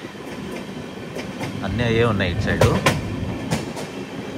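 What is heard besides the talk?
Kondaveedu Express train running slowly in fog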